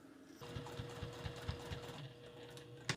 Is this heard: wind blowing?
no